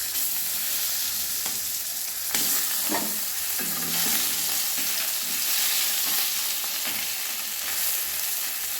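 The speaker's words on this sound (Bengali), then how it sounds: "এবারে আমি বাকি মাছগুলো ভেজে নিচ্ছি।" Shol (snakehead) fish pieces frying in hot oil in a pan, giving a steady dense sizzle with occasional stirring scrapes and bubbling bursts throughout, no voices.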